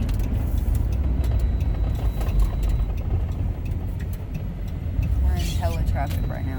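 Road traffic rumbling steadily from inside a moving car, with low engine drone and passing vehicles, a brief air-brake hiss near the end, while people talk over it.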